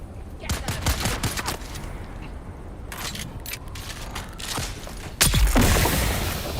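Rifle fire in the sci-fi survival game Dune: Awakening, loud repeated bursts of gunshots with sharp cracks spread across the stretch, a heavy close blast near the end.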